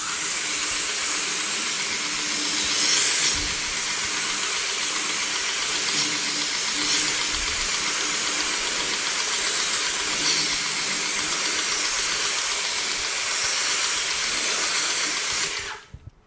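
Water spray rinses McKee's 37 SiO2 tire shine off a tire, making a loud, continuous broadband hiss that cuts off abruptly at the end.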